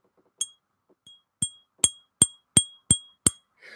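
An optic glass perfume bottle from a goth rose scent clinks in a series of about eight bright, ringing taps, sparse at first and then quickening into a steady rhythm, close and clear in a quiet room.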